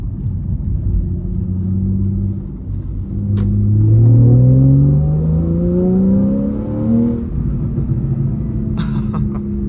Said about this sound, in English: Get a downshift in here. Oh, this thing, it sounds so good.